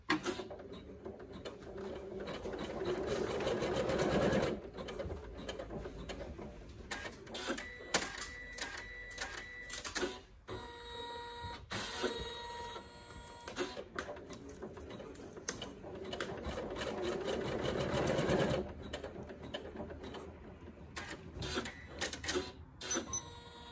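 A single-needle embroidery machine sews pocket placement stitches for an in-the-hoop hand sanitizer holder, a fast mechanical chatter that runs in bursts and pauses, fairly close and moderately quiet, with no talking over it.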